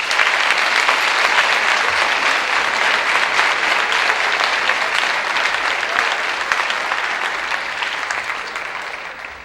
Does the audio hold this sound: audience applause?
yes